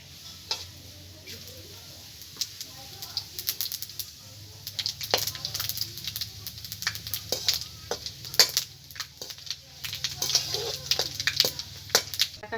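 Panch phoron five-spice with dried red chillies fries in hot oil, popping and crackling in quiet, irregular bursts that grow busier toward the end.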